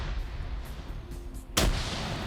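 A grenade blast in a military shooter game, one sudden loud broadband explosion about two thirds of the way in, followed by a lingering rumbling decay over steady background noise.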